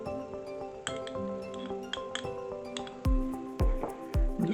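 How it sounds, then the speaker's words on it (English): A fork works softened butter into flour, sugar and cinnamon in a glass bowl, producing light clinks and taps against the glass, then a few heavier thumping strokes near the end, close up. "I'm just going to mix that in with a fork."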